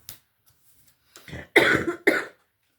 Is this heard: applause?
no